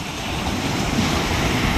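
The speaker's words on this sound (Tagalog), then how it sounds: "Dito na naman sa tabi may alon" Ocean waves rolling in at the shore, a steady, loud wash of surf with wind noise that continues for the whole short stretch and has no voices over it.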